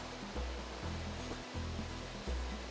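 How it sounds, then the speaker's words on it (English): Excess water from a mill race pours as a waterfall into Little Butte Creek at Butte Creek Mill in Eagle Point, Oregon, a steady loud rushing roar with low rumbling pulses and no voices. "excess water that pours off the front of the mill race that is in the form of a waterfall that goes back into Little Butte Creek"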